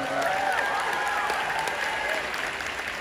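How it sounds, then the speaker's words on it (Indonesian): A concert crowd at a show applauds, an even wash of many hands clapping at a distance, sustained and fairly soft throughout. "Boleh tepuk tangan buat NLA."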